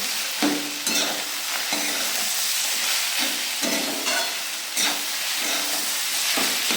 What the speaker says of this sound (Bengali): খানিকক্ষণ বাদে বাদে ভেজে যেতে হবে, এই নাড়িয়ে নাড়িয়ে যেতে হবে